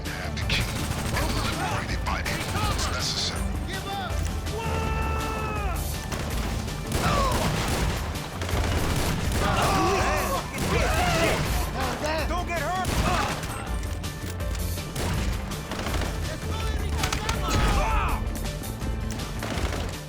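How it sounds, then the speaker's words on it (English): In GTA Online, compact grenade launcher rounds blast into vehicles, sending repeated loud explosions and crashes through the scene alongside bursts of gunfire and impact noise, with a voice talking throughout. "fire 2 grenades at the 2 vehicles"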